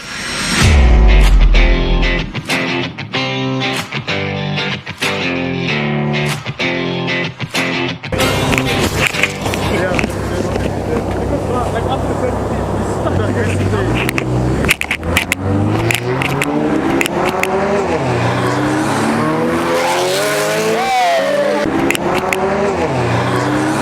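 An Audi S3 and a BMW M2 drag race flat out, their engines roaring loud and close, with rising revs climbing through repeated gear shifts as both cars pull hard side by side.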